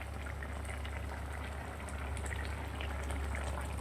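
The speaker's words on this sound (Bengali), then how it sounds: "এদিকে ডালও ফুটে উঠেছে" Dal bubbling at a boil in a pot, with a continuous low rolling burble and soft gurgles, close and steady throughout.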